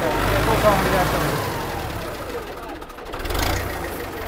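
A modified 640 tractor, reworked to 850 specification, idles during a sound check with a steady, loud low rumble that swells slightly toward the end, while voices talk over it.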